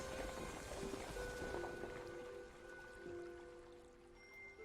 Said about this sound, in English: The sound of the water as well.